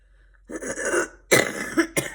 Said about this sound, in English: my cough seemed like it was getting better